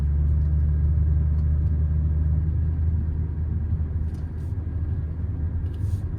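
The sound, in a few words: 1995 BMW 840ci E31 car engine while driving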